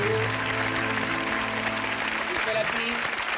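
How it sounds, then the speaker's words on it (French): Audience applause at a French magic show on a television stage, dense steady clapping throughout under a voice speaking over it. "On peut l'applaudir et on peut l'applaudir également lui."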